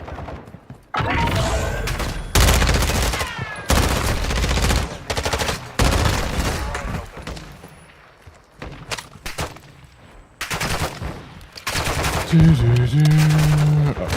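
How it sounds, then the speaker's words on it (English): Bursts of automatic gunfire in Call of Duty DMZ, several loud rapid volleys separated by short pauses, with a low voice and game sounds between them. "You are taking effective fire."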